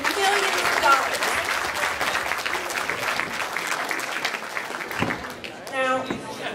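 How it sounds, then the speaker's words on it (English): An audience at an award ceremony for the Valley Patriot First Amendment Award breaks into sustained applause, dense clapping that gradually thins and fades toward the end, with a voice cutting in briefly near the close. "Can we get a round of applause for that?"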